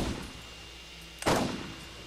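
Gunfire aimed at turrets in the video game Borderlands: a single loud, sharp shot bursts out about midway and decays over a second, after low background game noise.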